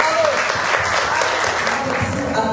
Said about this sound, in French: je pense qu'on peut applaudir bien fort